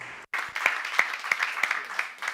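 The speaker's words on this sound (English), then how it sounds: "a round of applause for our panelists" An audience at a conference on digital justice applauds its panelists, a spread of scattered claps rising and continuing at moderate distance while a voice speaks over it.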